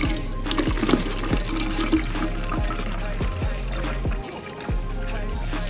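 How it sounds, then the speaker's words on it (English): Tap water running to fill a container, a continuous splashing gush with a rhythmic low thumping pulse underneath, close and steady throughout. "Let's fill up the water."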